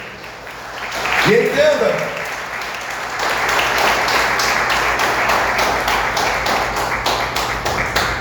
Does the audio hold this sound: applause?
yes